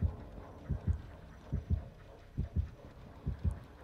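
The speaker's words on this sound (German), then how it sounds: "Ich habe Herzklopfen?" Low, heavy heartbeat thumps in paired beats, repeating steadily about every second as the killer draws near in the horror game Dead by Daylight, with no voices over them.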